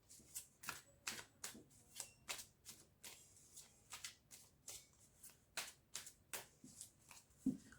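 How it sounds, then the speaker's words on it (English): Star Spinner Tarot cards are drawn and laid down from the deck one after another, producing a quick, regular series of crisp, close papery snaps and slides, quiet and with no voices. "I'm going to take out 4 cards from here for you."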